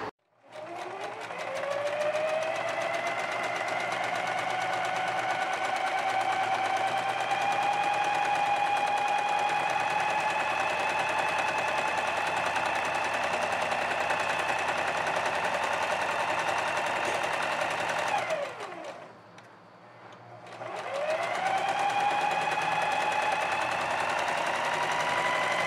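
A sewing machine stitches a blouse seam with a steady, loud mechanical whir that holds for nearly twenty seconds, pauses briefly, then starts up again.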